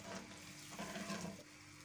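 Water is poured into fish curry gravy in a cooking pot, making a quiet, brief splash and gurgle that runs steadily for a moment before easing off.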